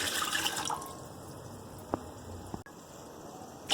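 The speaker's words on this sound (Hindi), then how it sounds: "अब मैं चावल बॉईल करने के लिए पानी ऐड कर रही हूँ, तकरीबन 2 जग।" Water from a jug pours into a pot of soaked rice for boiling in a home kitchen, a steady splashing rush that ends with faint drips, no voices.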